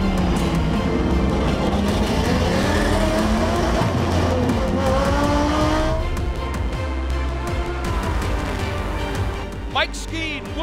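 Race cars lap Sonoma Raceway during a Pirelli World Challenge race, engines rising and falling as they pass with a brief tire squeal, all under continuous commentary.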